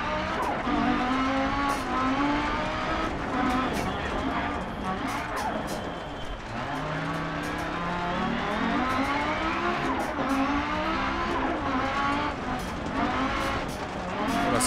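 An Audi S1 Quattro rally car climbing Pikes Peak in Dirt Rally, its engine revving hard and rising through the gears with tire noise and gravel, while someone talks excitedly over it.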